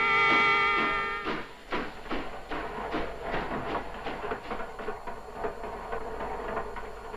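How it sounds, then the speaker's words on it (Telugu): A train passing near a house produces a run of rhythmic rattling clacks and rumbles that follow a brief tonal sound at the start, all of it moderately loud and continuing without voices. "రైలు వెళుతున్న శబ్దం వినిపిస్తోంది"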